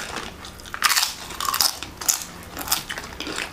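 Crunchy nachos are bitten and chewed close up in a series of sharp crisp crunches with short pauses between them, with no talking.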